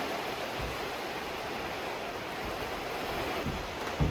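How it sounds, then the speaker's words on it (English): Rain falls outside during wet weather, a steady, even hiss of broadband patter that holds at a constant moderate level throughout, with no voices. "but it is now raining."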